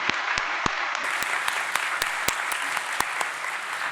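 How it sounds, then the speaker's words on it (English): Audience applause for teams in a building-block contest at a Ruby programming conference: dense, sustained clapping from a crowd, steady and fairly loud throughout, with sharper individual claps standing out. "Give them a big round of applause, ladies and gentlemen."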